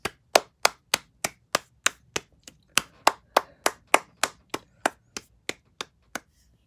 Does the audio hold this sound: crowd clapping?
yes